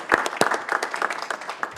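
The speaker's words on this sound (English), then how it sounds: "Round of applause, right?" A short burst of applause for student state champions at a school board meeting: a small crowd clapping in a room, scattered and brief.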